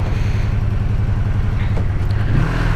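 Honda VF500F Interceptor motorcycle engine idling with the choke on, a steady low rumbling putter heard up close throughout.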